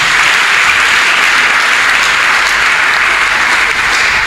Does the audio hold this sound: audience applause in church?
yes